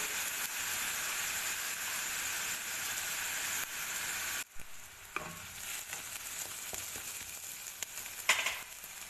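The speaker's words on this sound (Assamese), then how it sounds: "এইখিনি এতিয়া আদা নহৰু কেঁচা গোন্ধটো যোৱালৈকে অলপ সময় ভাজি" Continuous close sizzling of aromatics frying in a hot pan, with occasional scrapes and clinks of stirring.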